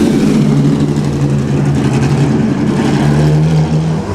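A 1957 Ferrari race car roars close by with a loud, sustained engine drone, the pitch holding steady and then rising slightly as it passes.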